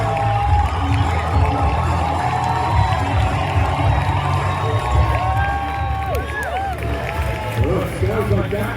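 Crowd at a Renaissance fair joust cheering and calling out in a steady, loud wash of voices, with occasional rising whoops near the end, mixed with nearby chatter.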